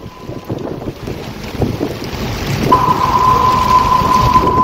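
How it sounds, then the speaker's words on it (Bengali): Heavy storm wind roars and buffets the microphone aboard a river launch in the Sundarbans, loud and continuous, with a steady whistling tone joining in partway through. "এই ঝড়ে দেখুন আমাদের লঞ্চ টলমল।"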